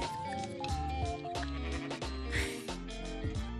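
A red sheep in a video game bleats repeatedly, wavering cries layered over cheerful background game music.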